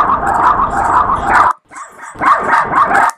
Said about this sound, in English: from a simple dog barking, you apply the analog delay